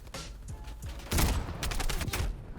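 Dense gunfire in Call of Duty Black Ops Cold War: overlapping rapid shots that swell into a loud, sustained volley halfway through and then break into scattered bursts.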